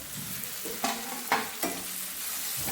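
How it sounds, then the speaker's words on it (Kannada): Onion sagu being stirred in a pan with coriander leaves on a gas stove, a steady sizzle broken by three sharp scraping stirs of the spoon, close and fairly quiet. "ಸ್ವಲ್ಪ ಕೊತ್ತಂಬರಿ ಸೊಪ್ಪು ಹಾಕಿ ಒಂದು ಸ್ವಲ್ಪ ತಿರುವಿ ಒಂದು ಸಲ ಹಿಂಗೆ ಗ್ಯಾಸ್ ಆಫ್ ಮಾಡಬೇಕು"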